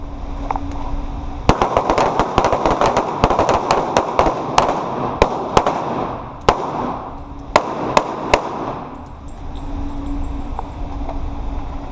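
Taurus G2C pistols fire at a defensive pistol class at Royal Range Nashville: a dense, uneven volley of sharp, loud shots from several shooters at once, thinning to scattered cracks before falling quiet.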